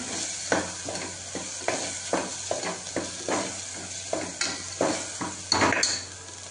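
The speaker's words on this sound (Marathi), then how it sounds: "त्यात आपण टोमॅटो टाकूया, टोमॅटो जराशी परतून घेऊया" Tomatoes sauté in a pan for a Maharashtrian val and bean curry: a soft continuous sizzle under repeated rhythmic scrapes and taps of a spoon stirring against the pan, close by and without talk.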